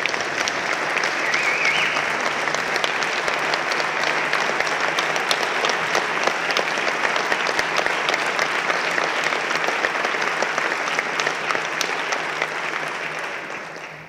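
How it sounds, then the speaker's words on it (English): Sustained applause fills the House chamber for a farewell to the departing Sergeant-at-Arms, a dense, steady clatter of many hands that holds level for about twelve seconds before tapering off, with no talk over it. "Can we give him a round of applause?"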